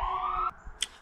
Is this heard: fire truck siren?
yes